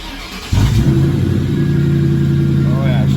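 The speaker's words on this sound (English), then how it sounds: "A little rev in there, just a little one." A car with newly installed exhaust tailpipes starts up into a loud, close, steady rumbling rev that holds throughout, with a voice briefly heard over it near the end.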